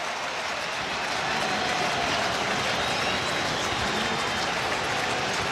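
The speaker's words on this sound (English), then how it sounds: "Crowd on its feet" A ballpark crowd at Yankee Stadium during a playoff game, a broad steady roar of cheering that holds loud and even throughout with no clear voice on top.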